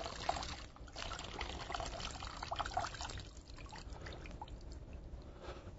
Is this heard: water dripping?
yes